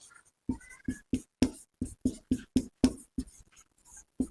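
Pen writing out a math solution on paper, about a dozen short strokes in a steady tapping rhythm, close and clear, with no talking.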